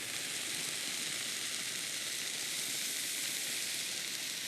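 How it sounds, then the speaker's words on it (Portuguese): Rice sautés in a hot pan for Portuguese octopus rice, a dense, even sizzle that holds loud and close without pause. "Vamos só refogar o arroz 1 a 2 minutos."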